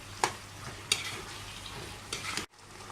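Chicken Manchurian with soya sauce being stirred in a pan, a quiet sizzle with a few distinct spoon scrapes, then the sound cuts off abruptly near the end, no voices.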